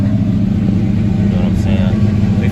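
Chevrolet Monte Carlo engine idling high on a cold start, a steady loud low rumble close by with a brief rise in pitch near the end.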